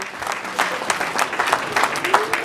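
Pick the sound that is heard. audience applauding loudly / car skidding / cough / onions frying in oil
audience applauding loudly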